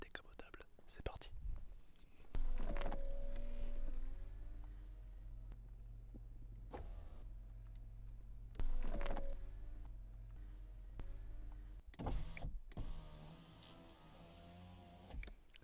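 Electric motor whirring as a convertible car's roof opens, in long steady mechanical drones broken by clicks and thumps, heard close up with soft whispering voices between.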